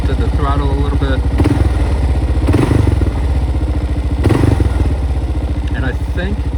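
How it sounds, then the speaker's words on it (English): Kawasaki KLR650 Gen-1 single-cylinder motorcycle engine, warmed up after a carburetor rebuild, blipped and released, then idling close and loud with a few extra firing pops and thumps after each throttle release. "I think you can probably hear that after I release the throttle, it fires 2 or 3 more times"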